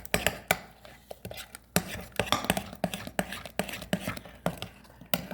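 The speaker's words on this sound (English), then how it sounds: "That's just totally stirring this." Hand stirring of keto mocha muffin batter in a bowl, an uneven run of scraping clicks and knocks from the utensil against the bowl, close and fairly loud, with no voices.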